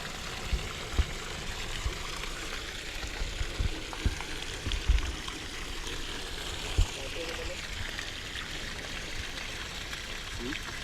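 Water gushes steadily from a borewell pump delivery pipe, a continuous broadband rushing stream heard up close with a few sharper splashes and knocks.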